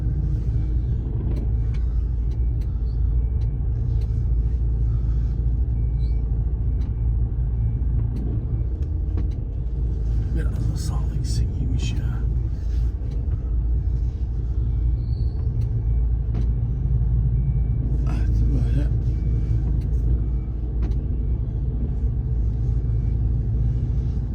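A semi-truck's engine rumbles steadily at close range as it maneuvers slowly between two parked trucks at night, with occasional short air-brake hisses over the continuous low drone.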